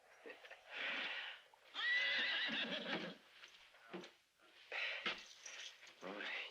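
A horse whinnies loudly in several long, wavering bursts at close range, with a snort and a soft clip-clop of hooves in between, set in a Western scene.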